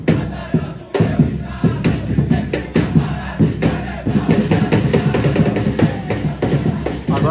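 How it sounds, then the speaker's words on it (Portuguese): Organized supporters of CSE chanting outside the stadium before a Série D clásico against ASA, a loud continuous crowd roar with rhythmic shouted chants close by. "Ó, galera, torcida organizada aí do CSE."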